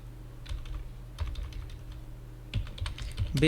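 Computer keyboard keys tapped while entering a narration in Tally Prime accounting software, producing quick irregular clicks in short bursts over a low steady hum.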